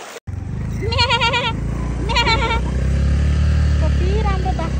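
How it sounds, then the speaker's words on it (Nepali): Goats bleating in a Nepali hill village beside a river, a few wavering calls in two clear bursts and then fainter bleats, over a steady low rumble of engine noise with people talking nearby. "कति राम्रो बाख्राहरू"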